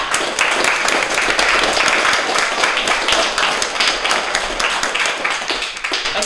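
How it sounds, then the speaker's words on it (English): A school audience applauds the sixth grade spelling bee champions with loud, continuous clapping from many hands, a dense wash that holds steady and eases slightly near the end. "Round of applause."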